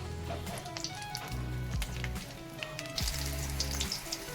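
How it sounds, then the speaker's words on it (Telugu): Green chillies frying in a pan, a continuous close sizzle and crackle with faint scrapes and a low background hum, with no one speaking. "పచ్చిమిరపకాయలు వేగే వరకు ఫ్రై చేయాలి"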